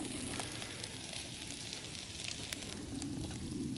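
Burger patties sizzle steadily on a grill at a winter bushcraft camp, a constant close crackling hiss with occasional sharper pops and no voices.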